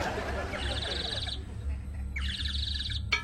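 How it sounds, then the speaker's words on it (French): A bird cries out twice in long, high, wavering calls over a low background hum, with a brief click at the end. "je suis obligé d'entendre un cri d'oiseau agonisant"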